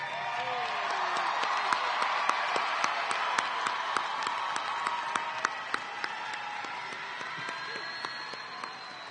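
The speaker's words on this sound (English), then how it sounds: "Let's give our graduates another round of applause." An audience applauds graduates at a technical college graduation ceremony, a steady wash of clapping with sharp individual claps standing out close by and faint cheers within.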